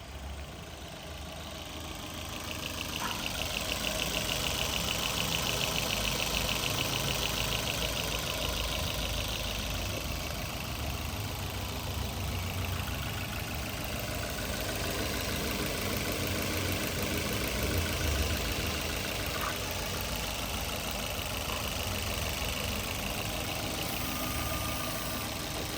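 A Maruti Suzuki Ignis petrol automatic sits idling, its engine a steady, even hum with a faint high whine, constant and unbroken throughout.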